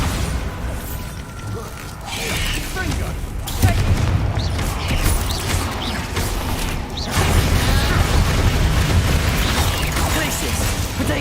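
Bombarda blasting-spell explosions in the Hogwarts Legacy video game, heavy booming bursts that swell at around four and seven seconds over a continuous rumble of battle effects and game mechanisms.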